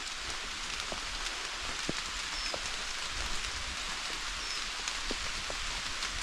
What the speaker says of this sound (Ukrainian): Небо сіре, дощ іде.